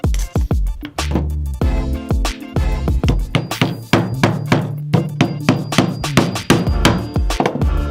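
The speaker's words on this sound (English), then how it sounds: "you may need to tap them in with a hammer" Repeated sharp hammer taps driving wooden dowels into holes, coming in quick bursts and then a steady rhythm, close and loud.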